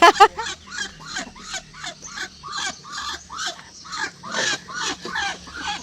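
A rooster and hens on a home farm give a steady run of rhythmic clucks and squawks, close and moderately loud, with no talk.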